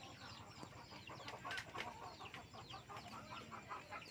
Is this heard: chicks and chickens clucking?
yes